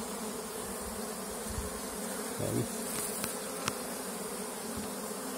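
Honeybee buzzing steadily during a hive inspection, a continuous close hum with a few brief taps and a short spoken exclamation partway through.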